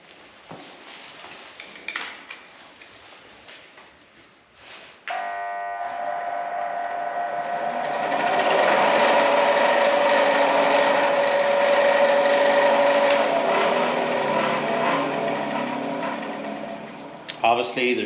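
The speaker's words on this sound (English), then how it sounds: "So I'll start it up here for you. This isn't the right motor for it." A homemade bandsaw mill with a temporary, unsuitable motor starts up after some knocking and handling, then runs with a loud, steady whine and buzzing hum that rises and holds before a few clunks near the end.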